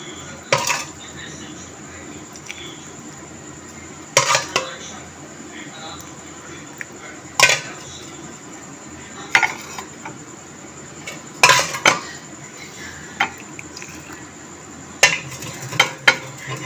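Gur tea being strained into three cups in a home kitchen: clinks of a pot rim and utensils strike at intervals against a steady background hiss, with a voice talking over the work.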